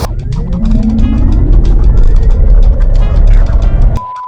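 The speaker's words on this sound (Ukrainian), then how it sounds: "це звук двигуна, такий страшне, як ніби як чайник" Loud electric motor drone with a rising whine as a 2020 Nissan Leaf drives, cutting to a thin steady tone near the end.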